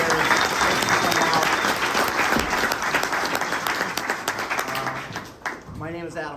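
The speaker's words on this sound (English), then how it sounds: "let's give a big round of applause for Justin." Audience applause fills a talk venue at an AI event, loud dense clapping from a close crowd that gradually thins toward the end, where a voice begins speaking.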